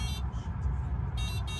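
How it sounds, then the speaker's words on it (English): Renault Twizy electric car sounding its pedestrian warning tone: a steady beeping, buzzy electronic tone that comes in short bursts near the start and end, heard close up over a low hum. "It's got a pedestrian warning sound."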